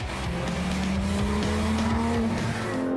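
Porsche GT3 RS with PDK dual-clutch gearbox howling through a left-right chicane on a race track, engine note steady and loud throughout with faint tire squeal, no talk.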